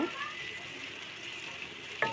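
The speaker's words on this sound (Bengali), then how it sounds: "লাড়তে লাগতে একেবারে ভাজা ভাজা করে নেব" Okra with garlic paste and green chili frying in a pan, a steady soft sizzle with a brief stir or scrape near the end.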